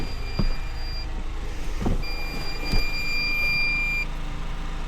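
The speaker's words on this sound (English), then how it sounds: "Oh, I heard a beep." A power inverter's thin electronic alarm beep sounds twice in steady held stretches, warning of high grid frequency, quiet over a low background hum with a few soft knocks.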